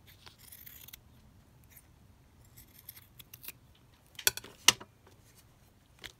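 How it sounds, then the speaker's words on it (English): Scissors snip through a bit of lace, a few quiet cuts followed by two crisp, distinct snips and a final faint one, close and otherwise near silent. "just snip it off from the other side"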